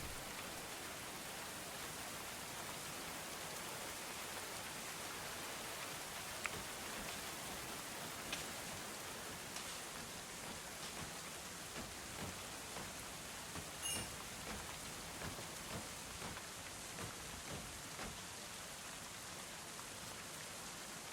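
Pouring rain in the Going Medieval video game, a dense even hiss of falling drops that holds steady and moderately loud with no break.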